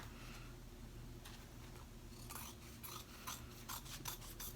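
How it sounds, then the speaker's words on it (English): Scissors trimming excess fabric from a zipper bag with enclosed seams, a soft rasping snip-and-rub texture in short bursts, quiet and near, with no speech. "I'm just going to go ahead and trim that as well."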